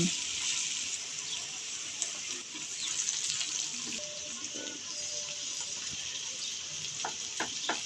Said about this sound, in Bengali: মশলাগুলোকে এবার তেল ও পেঁয়াজের সাথে ভেজে নেব